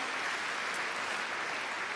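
Congregation applauding at a church sermon, a steady wash of clapping at moderate distance with no voices over it.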